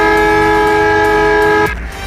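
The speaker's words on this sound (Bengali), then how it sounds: "এই গেমের মধ্যে যদি হর্ন দেন আপনারা" A vehicle horn in a driving video game blares as one loud, steady sustained tone for over a second and a half, then cuts off abruptly, leaving quieter engine rumble.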